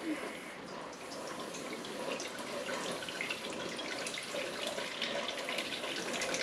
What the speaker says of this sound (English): But what I'm going to do is start gently pouring into my pot.